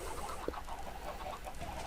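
Blocky game chickens cluck in a crowded automatic cooked-chicken farm in Minecraft, a busy overlapping flock of short soft clucks running steadily under a dense background hum.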